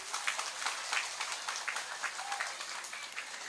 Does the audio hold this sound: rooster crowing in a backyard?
no